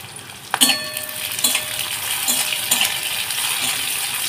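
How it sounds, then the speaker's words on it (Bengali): Chopped onion frying in oil, a continuous close sizzle with a few sharp clinks of a utensil against the pan near the start and again later. "আমি পেঁয়াজটাকে খুব বেশি করে ভাজবো না, এইভাবে আমি ভেজে নিলাম"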